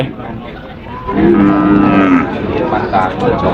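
A cow at a cattle and buffalo market gives one loud, long, close moo that rises and holds before fading, with a murmur of voices around it.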